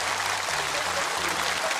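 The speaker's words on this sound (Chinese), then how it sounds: "来，掌声鼓励一下啊！" A television variety-show studio audience applauds steadily in a soft, even wash of clapping, with a low hum under it and no talking.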